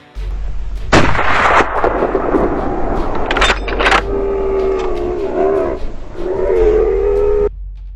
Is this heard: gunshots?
yes